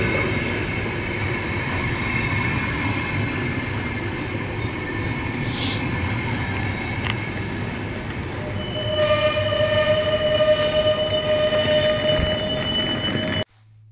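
A steady rumbling roar of a train rolling along rails toward Helsinki, heard from inside, with rhythmic clatter and a faint squeal joining partway before cutting off.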